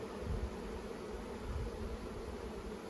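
Steady, soft buzzing hum of a hive of Carpathian and Buckfast honey bees, a continuous low drone with faint rustling, heard up close and fairly quiet.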